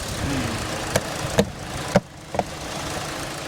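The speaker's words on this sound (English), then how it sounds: "Sounds like injectors." A truck engine idles steadily with sharp, irregular injector ticks and clicks standing out above the low running drone, close and fairly loud.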